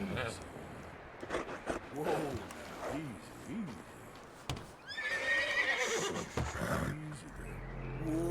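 A horse whinnies loudly in the video game Red Dead Redemption 2, followed by snorting and hoofbeats, with game-style music and effects around it.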